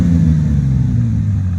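A car engine runs with a deep, steady, loud rumble close to the microphone, holding an even throaty drone without clear rev peaks and with no talking over it.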